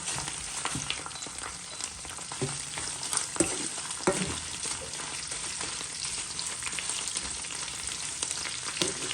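Chilies fry in a pan for Jaffna-style coconut sambol, giving a steady close sizzle with scattered crackles and light stirring scrapes throughout.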